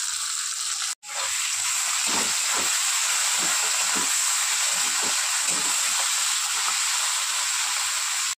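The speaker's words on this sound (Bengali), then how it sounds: "পেঁয়াজটা একটুখানি ভাজা হয়ে গিয়েছে, হালকা জাস্ট রংটা চেঞ্জ হয়েছে। এবার দিয়ে দেবো কুচিয়ে রাখা টমেটো" Chopped tomatoes go into a pan of frying onions with a loud, steady steam hiss and sizzle, broken by a brief cutoff early on, then continuing with faint scraping, close and alone.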